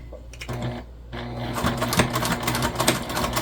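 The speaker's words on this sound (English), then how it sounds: "So then we're just gonna sew from exterior side up." Sewing machine basting the layers of a mini backpack together, its steady mechanical stitching rising to a busy rattle after a brief pause, close and fairly loud with little else around it.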